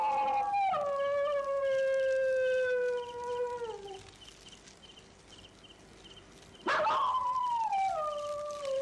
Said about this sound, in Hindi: वहां की आवाज देखिए, कुत्ते भूख रहे हैं, रो रहे हैं